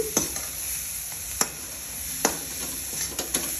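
A stir-fry of sprouted horse gram sautés in oil, giving a soft steady sizzle broken by a few sharp clicks of a spatula against the pan, with no voices.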